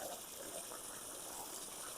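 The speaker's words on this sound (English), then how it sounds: "You can see all I'm doing is just putting some water in the hole." Water poured into a planting hole while transplanting cabbages in a garden, a steady soft gushing and splashing that runs evenly for the whole two seconds at moderate, fairly close level.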